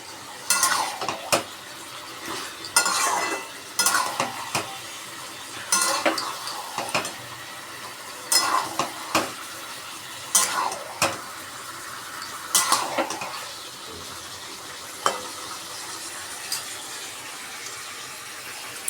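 Meat stirred and fried in a pan with chilli powder and turmeric, a spoon scraping and clanking against the pot in irregular bursts over a low steady sizzle, close and fairly loud.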